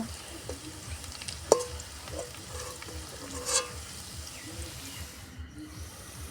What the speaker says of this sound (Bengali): ভাজা পেঁয়াজের ভিতরে আমি মাংসটা দিয়ে দিয়েছি